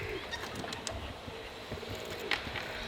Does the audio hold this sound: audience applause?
no